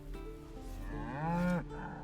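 A cow lows once inside the video game Baldur's Gate 3, a single drawn-out moo that swells and falls away, close and clear with no talk over it.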